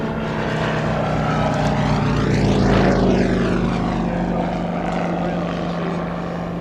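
A propeller aircraft at the Shuttleworth air show drones loudly overhead, its engine tone sweeping up and then down as it passes close by, with steady broadband roar throughout.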